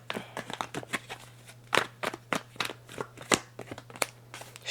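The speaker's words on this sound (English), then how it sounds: "I'm still shuffling" Tarot cards being shuffled by hand up close, a quick irregular run of crisp riffling snaps and soft slaps with no one talking.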